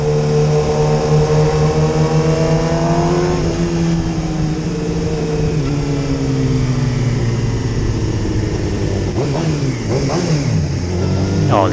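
A loud engine close by revs up and down several times, its pitch rising and falling with a brief throttle blip toward the end.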